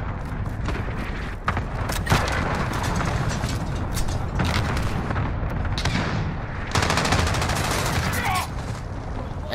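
A cruise missile strike in the video game Modern Warfare comes through as dense, continuous booming blasts and crackling gunfire, with a heavier impact surge partway through. The barrage is loud and unbroken throughout.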